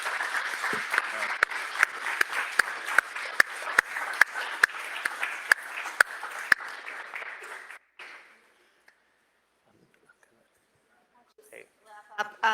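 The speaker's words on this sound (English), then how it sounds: "I'd like you all to join me in giving them a round of applause" An audience at a policy partners event gives the panel members a round of applause: brisk, fairly loud clapping from a crowd with a few sharp individual claps, lasting about eight seconds before stopping abruptly, followed by near silence and faint stray noises.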